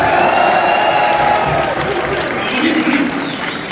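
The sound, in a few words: audience applause for Usman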